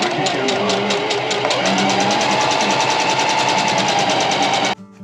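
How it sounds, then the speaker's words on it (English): Sewing machine stitching webbing onto a DIY bridge hammock, a fast steady mechanical chatter running loud and close, stopping abruptly near the end. "So I'm going to sew down there and sew down there the whole length."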